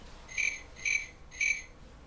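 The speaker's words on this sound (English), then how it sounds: "The cricket hops and chirps." A cricket chirps three times in an even rhythm, each short, bright trill clear and fairly close against a quiet, faintly hissing background.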